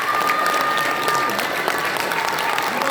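An audience in a hotel hall applauds steadily during a political book launch event, a dense, even patter of many hands clapping at moderate volume for a few seconds.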